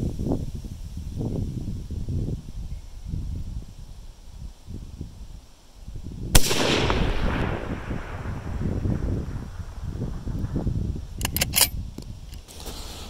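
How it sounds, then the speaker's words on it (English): A single sharp crack from a Savage Model 10 rifle firing 175-grain rounds cuts through gusty wind rumble on a windy range, with a few faint clicks afterward. "Three rounds of 175 grain at 830 with the EPL, and I have Savage Model 10."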